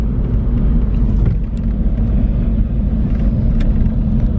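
A Nissan driven in stop-and-go traffic, its engine and road noise forming a loud, steady low rumble with small surges as it accelerates toward braking cars ahead; no talking.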